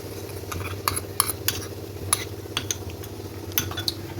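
Poppy seed paste mixed with mustard oil and chilli powder is poured over potatoes and stirred in a pan, giving soft scraping and sharp metallic clinks of a spoon against the pan over a low steady hum.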